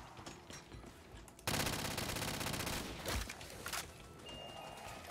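MTAR assault rifle firing in Minecraft Zombies, a loud sustained rapid burst of shots lasting a couple of seconds, then scattered quieter game sounds afterward.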